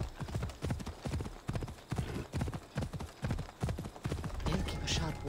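Rapid, rhythmic hoofbeats of a galloping horse in Assassin's Creed Odyssey pound steadily and loudly, with a brief whinny-like sound near the end.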